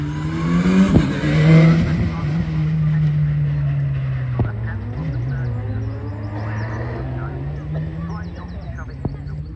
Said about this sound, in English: Here's a setup you never see. MG ZTT on 15s,